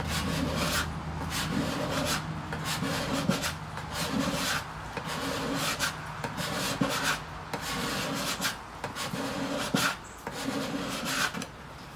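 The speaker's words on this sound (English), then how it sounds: "get your file, and just make sure it's got an edge on here. Scrape it." A file scrapes the wooden body of a guitar in repeated, rhythmic rasping strokes, close up and fairly even in loudness throughout.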